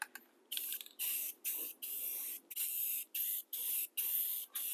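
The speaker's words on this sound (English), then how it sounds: "I'm just going to hit the bottom and the side of this with some flat black spray paint." Flat black spray paint hisses from an aerosol can onto a pocket door track in about eight short, sharp bursts separated by brief pauses, close and fairly quiet, with no talk.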